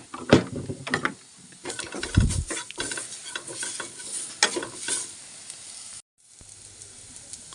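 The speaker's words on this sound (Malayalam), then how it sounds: "കുറച്ച് ഉപ്പൊക്കെ ഇട്ട് കൊടുത്തു. ഒന്ന് ഇളക്കിയിട്ട്" Chilli powder and salt get stirred into a frying pan, heard as close, uneven scraping and clattering strokes over a light sizzle, with a brief drop to near silence before it resumes.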